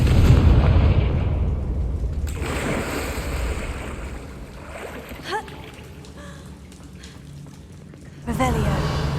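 A Confringo fire spell from the Hogwarts Legacy game bursts in loud broadband booms, one near the start and another at the end, over a rumbling ambient game background.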